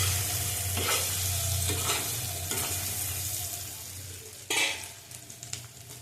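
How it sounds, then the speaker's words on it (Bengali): Soybean chunks fry in a little oil in a wok, giving a steady, loud, close sizzle with stirring scrapes and a sharper burst of hiss near the end. "ভালো করে ভেজে নেব।"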